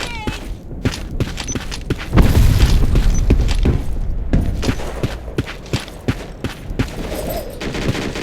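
Grenade blast and gunfire in the online shooter Black Squad, demolition mode: a heavy booming explosion about two seconds in rumbles on under scattered sharp shots and clicks, with rapid gunfire cracks before and after.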